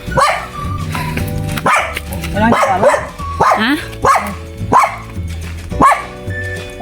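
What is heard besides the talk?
dog barking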